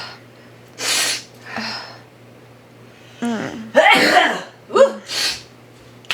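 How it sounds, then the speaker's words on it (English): A person sneezes forcefully several times, with gasping breaths and throat sounds between bursts, close and loud. "It's going to make me sneeze."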